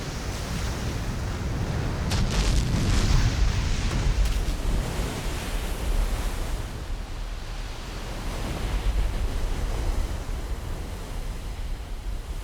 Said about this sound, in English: Ocean waves driven outward from fierce storm centers often travel for a week or more until they explode against the land.